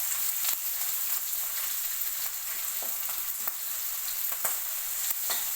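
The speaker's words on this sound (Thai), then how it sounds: "ใส่พริกลงไปนะคะ ผัดเพื่อให้มันหอมค่ะ" Chilies stir-fried in a pan over medium heat give a steady, close crackling sizzle, with scattered sharper pops and scrapes of stirring throughout and no talking.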